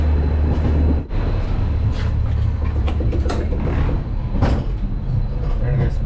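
Inside a Vistadome coach hauled by a diesel locomotive, the train rolls slowly with a loud, constant low rumble and rattling, marked by brief clanks and creaks over the steady drone.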